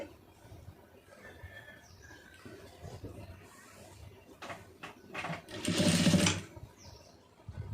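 A sewing machine runs a short burst of stitching along the side seam of a blouse, loud for about a second amid quiet handling noise and light clicks, with no one talking.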